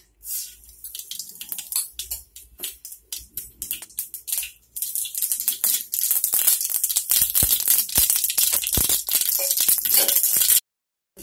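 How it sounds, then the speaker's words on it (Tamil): Mustard seeds land in hot oil in a pan while making banana stem curry, setting off a rapid crackling, popping sizzle that builds and grows dense and loud, then cuts off abruptly near the end. "எண்ணெய் காஞ்சோன்னா அதுக்கு வேணுங்கிற கடுகு போடுறேன்."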